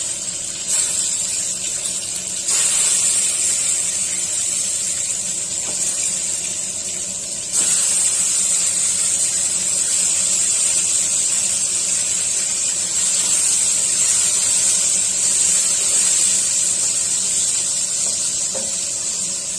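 Pointed gourd (parwal) pieces coated in turmeric and salt fry in hot oil, giving a steady, even sizzle and hiss that runs without a break. No one speaks.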